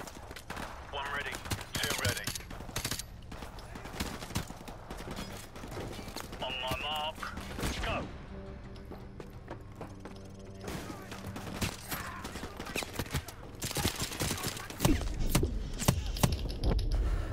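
Rapid gunfire from a tactical shooter video game crackles in dense bursts across the clip, mixed with game noise and a player talking over it.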